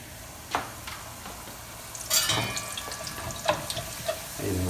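Buñuelo tortilla dropped into hot oil, a soft steady sizzle with a few sharp crackles and pops, close and fairly quiet.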